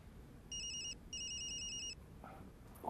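A telephone rings in two short bursts of an electronic trilling bell, clear against a quiet room, followed by faint background sounds.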